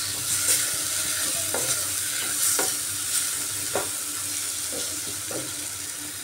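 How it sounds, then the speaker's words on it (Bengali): Four potato pieces stirred with spice masala in a frying pan, a steady close sizzle broken by several distinct spatula scrapes and knocks at uneven intervals. "আলুটা দিয়ে ভালো করে মশলার সাথে মিক্স করে নিচ্ছি।"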